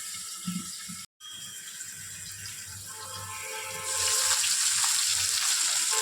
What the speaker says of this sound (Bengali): দুটো দুটো করে মাছ ভেজে নেব।